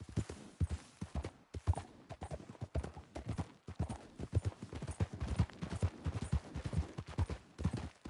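Horse hooves clip-clop steadily at a trot in a Western-style video game, a close, even rhythm of hoof strikes running throughout with faint ambient noise beneath.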